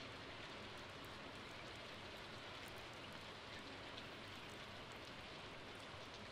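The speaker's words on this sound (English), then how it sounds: "Good way to pass the time during the rain." Steady rain from the video game Stardew Valley patters continuously as a dense, even hiss with scattered drop ticks, quiet and uninterrupted throughout.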